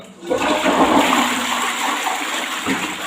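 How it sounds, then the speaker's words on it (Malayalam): A toilet flushes after a cleaning solution was left in the bowl, a loud close rushing gush that starts abruptly and swirls steadily for several seconds without any talking. "പത്ത് പതിനഞ്ച് മിനിറ്റ് നമ്മൾ ഇതുപോലെ വെച്ചതിന് ശേഷം ഒന്ന് ഫ്ലഷ് ചെയ്ത് കൊടുക്കാം"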